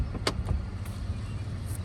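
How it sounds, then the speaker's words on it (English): Soft-close doors on a 2009 Mercedes-Benz CL 550 4Matic AMG coupe pulling shut, a few brief mechanical clicks and a quiet motorized whir over a low idle hum, close by. "Check out the soft closed doors. Love the soft closed doors."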